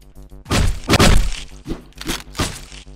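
A thrown weapon strikes in the top-down action game Hotline Miami, landing as a few hard, punchy thwacks and cracks over a steady pulsing synth soundtrack.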